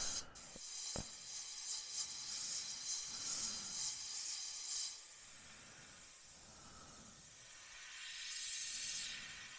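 Faint, steady airy hissing of an airbrush spraying paint on a Revell Lockheed Ventura Mk II scale model in short runs, stopping and starting, with a light click at the start.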